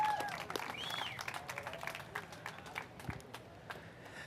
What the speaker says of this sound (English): Big round of applause for your runner-up, Hiroka Yoshikawa from Japan.